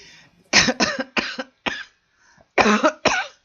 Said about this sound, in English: I've still got this cough.